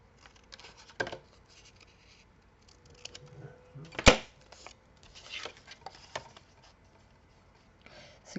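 Large scissors snip through paper card during a zigzag greeting-card craft, giving a few sparse, quiet cuts and rustles, with one sharp, louder snip near the middle and nobody speaking.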